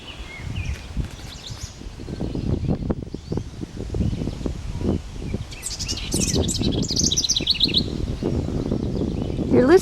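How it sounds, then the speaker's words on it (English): A house wren sings bubbly, rapid trilling phrases repeatedly over rustling outdoor background noise. "You're listening to a house wren."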